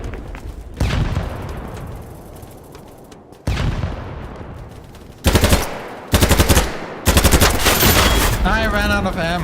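Bursts of automatic machine gun fire from the video game Battlebit Remastered come in several loud, rapid volleys separated by short pauses, the last long burst trailing off into a faint warbling tone.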